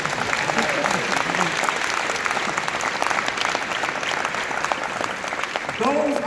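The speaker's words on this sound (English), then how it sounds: "Give me some applause because I worked hard on" Sustained applause from a commencement audience fills the whole stretch, dense and steady, with a few voices and brief cheers rising near the end.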